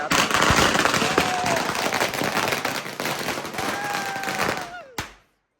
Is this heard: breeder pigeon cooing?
no